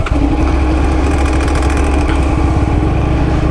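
Yamaha R1 Crossplane 1000cc inline-four in standard mode, its exhaust note close and loud, a throaty lumpy idle that blips up in a couple of quick revs before settling back to a steady rumble.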